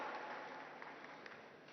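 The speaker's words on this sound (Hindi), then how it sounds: "जोरदार ताली बजाइए उनके लिए" An audience applauds at a stage event on telepathic mind power, a dense, steady wash of clapping that sounds distant and faint.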